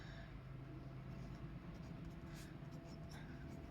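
Math problems are written on a board, faint scratchy strokes of a pen or chalk in short bursts over a low, steady background hum.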